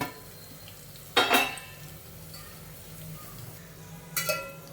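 Chilies, garlic and turmeric fry quietly in a pan with a soft, steady sizzle, broken twice by sharp metallic clinks of a spoon against the pan.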